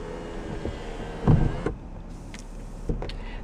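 Automatic sunroof on a 2019 Toyota Avalon Limited closing inside the cabin: a smooth electric motor whir runs for about a second and a half, then stops with a soft thunk, followed by a few faint clicks.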